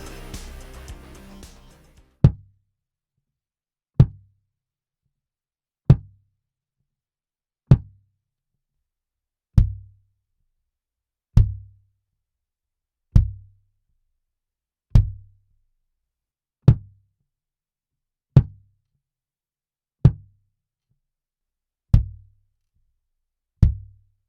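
A kick drum captured through AKG D112 and Audix D6 microphones thumps alone in a studio live room, about fourteen single hits spaced evenly roughly every two seconds, each a punchy low boom with a quick decay, after a brief burst of noise at the start.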